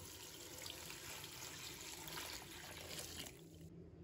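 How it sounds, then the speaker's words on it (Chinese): Clean water pours steadily into a basin of trimmed green beans in a home kitchen, a continuous close splashing rush that drops away near the end. "倒入清水"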